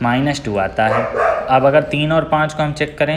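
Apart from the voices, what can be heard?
dog barking outside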